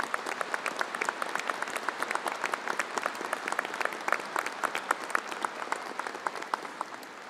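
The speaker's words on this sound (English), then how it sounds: "it says here I'm supposed to ask you to applaud, but you clearly figured that out yourself" A convocation audience applauds university faculty with steady, even clapping that carries on for several seconds in a large hall, moderately distant and without talk.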